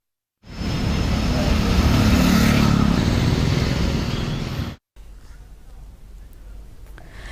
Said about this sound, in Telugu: నేషనల్ హైవే మీద ట్రాఫిక్ భారీగా జామ్ అయింది